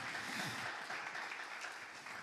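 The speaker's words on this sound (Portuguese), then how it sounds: "Você pode aplaudir Jesus?" A church congregation applauds in a faint, steady, distant wash of clapping that stays even and unbroken for a couple of seconds with no voice over it.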